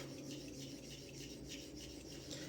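A Le Grelot straight razor honed on a whetstone: a continuous soft rasping scrape of steel across stone, fairly quiet and even, with no voices.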